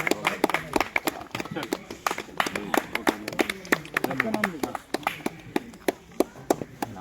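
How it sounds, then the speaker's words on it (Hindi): A crowd at an outdoor picnic by Kolar dam in Bhopal claps for Pandey ji in a scattered, uneven patter of hands, with someone talking over it. "तालियां बजाइए पांडे जी के लिए"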